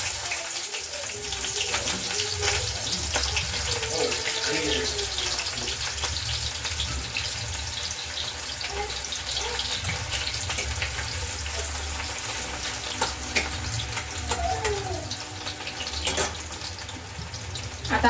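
Cumin and onion frying in hot oil with mustard seeds in a pan, a dense steady sizzle heard close, with occasional light crackles and stirring scrapes.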